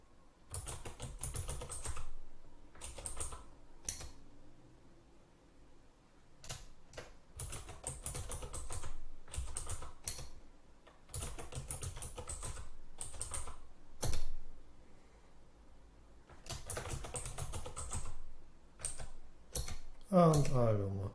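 Bursts of clicky keystrokes on a computer keyboard as a password is typed, uneven clusters of taps separated by short pauses, close and moderately loud.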